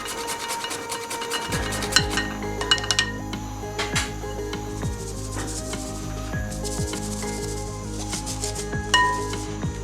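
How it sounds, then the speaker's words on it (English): Spices and nutmeg for an egg-less carrot cake are pushed through a sieve, giving a steady close-up scratchy rubbing and rasping with small tapping knocks throughout. "I do like to sieve all of my spice as well"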